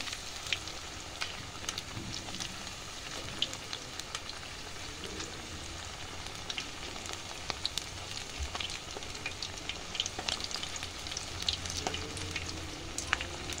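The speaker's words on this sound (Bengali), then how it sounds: "এক পিঠ ভাজা হলে আরেক পিঠ আমি একটা স্টিকের সাহায্যে উল্টে দেব।" Potato and spinach fritters held on sticks crackle in frying oil, a steady, fairly quiet sizzle peppered with small pops and spits throughout, with no speech.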